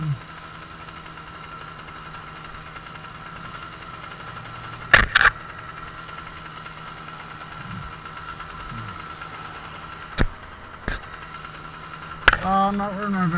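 A motorized bicycle engine runs steadily on a snowy ride, a low continuous drone broken by a few sharp mechanical clanks, with a voice briefly heard near the end.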